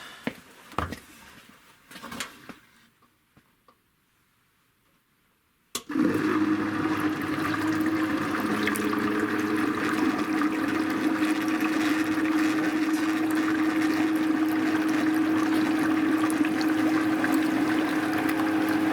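A small plug-in pump circulating vinegar through a tankless water heater starts abruptly after a few quiet seconds of faint clatter, then runs as a steady, close, humming liquid whir with no talking.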